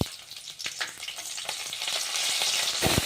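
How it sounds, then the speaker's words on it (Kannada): Tomatoes fry in a pan with Byadgi chillies, giving a steady, close sizzle with occasional stirring clicks that builds into a dense hiss by the end, and no voices. "ಈಗ ಫ್ರೈ ಆದ ತಕ್ಷಣ ಟೊಮೆಟೊ ಹಾಕೋತೀವಿ."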